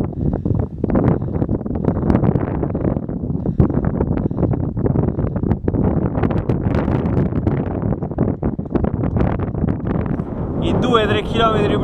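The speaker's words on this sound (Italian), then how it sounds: "poi si è alzato un vento micidiale" Strong wind on the open steppe buffets the microphone in a continuous loud roaring rumble, gusting unevenly throughout, with a brief electronic sound near the end.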